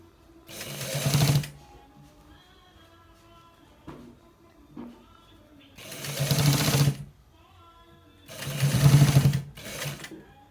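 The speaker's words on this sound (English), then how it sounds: "So guys, this is how we stitch it." A sewing machine stitches a pair neck design on a garment in three separate bursts of rapid mechanical clatter, each lasting one to two seconds, with quiet pauses between them.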